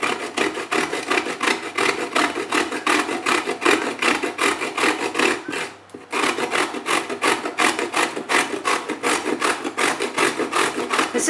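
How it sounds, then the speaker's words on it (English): Carrot rubbed over the large blade of a Nicer Dicer vegetable grater, a rapid rhythmic rasping of repeated strokes with one short pause midway, close and fairly loud. "I'm going to grate carrot."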